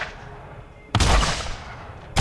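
Fireworks go off in the video game Borderlands, a sudden loud burst of crackling blasts that sustains for over a second, then another sharp report at the end, with no talk.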